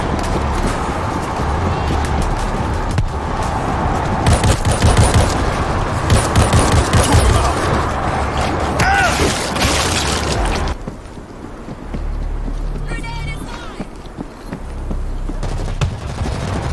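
In the zombie shooter World War Z, dense rapid gunfire and automatic bursts rattle loudly with booms mixed in, then a quieter stretch follows with the clicks of a weapon being reloaded.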